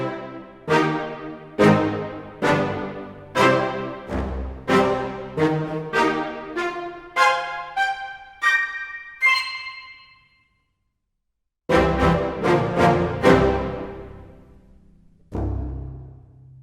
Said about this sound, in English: one of the really cool patches is called the Full Orchestra patch